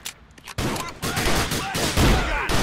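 Gunfire in the video game GTA 4: The Lost and Damned. A loud rapid burst of shots follows a quieter opening and keeps going to the end with scattered echoing reports.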